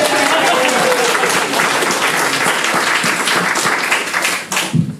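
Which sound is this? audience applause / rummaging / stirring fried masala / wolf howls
audience applause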